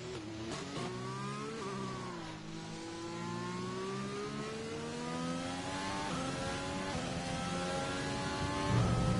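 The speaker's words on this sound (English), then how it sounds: "the safety car is just going past" Formula One safety car in the F1 2020 racing game, a smooth engine tone that rises and falls through gear changes as it passes, steady and moderately loud with no talking.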